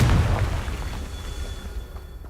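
A Confringo spell blast from Hogwarts Legacy, a single low booming burst at the start that decays into a rumbling tail, with no talk over it.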